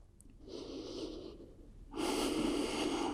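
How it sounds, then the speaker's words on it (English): Deep breathing during a wrist and shoulder workout: a long airy inhale followed by a louder, forceful exhale, close to the microphone with no talking. "And keep breathing deeply."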